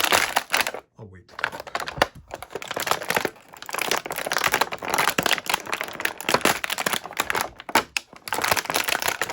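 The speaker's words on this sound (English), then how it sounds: "This plastic is so" Plastic toy packaging crinkles and crackles loudly up close as it is pulled open, with irregular bursts and short pauses, and a voice speaks briefly over it.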